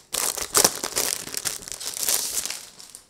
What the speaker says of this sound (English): I shall unwrap it noisily